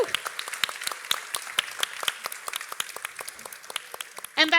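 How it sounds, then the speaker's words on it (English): A conference audience applauds the organizers with dense, steady clapping that carries on throughout, with a brief burst of whoops near the end. "give another round of applause to the organizers"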